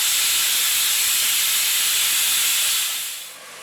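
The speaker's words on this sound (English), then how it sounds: "that's my cooker telling me that the dal is almost done" Pressure cooker whistle hisses steadily, a loud high-pitched steam jet holding for about three seconds before tapering off, while dal makhani cooks on the stove.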